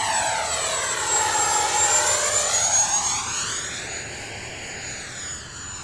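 FMS 80mm electric ducted fan model jet flying aerobatics, a high whining fan roar that sweeps down and back up in pitch as it passes overhead, then fades slightly as it pulls away.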